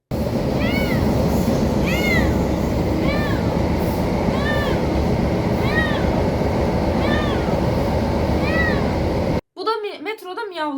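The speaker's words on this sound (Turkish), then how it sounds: "otobüste Tarçın sürekli miyavlamıştı" A cat meows over and over in a steady rhythm, about once a second, against a loud rumbling bus engine drone, then a few closer meows after the noise cuts.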